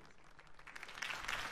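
Crowd applause greeting Harvey Dent's campaign speech in Batman: The Telltale Series, a steady wash of many hands clapping that swells slightly louder toward the end, heard alone without talk.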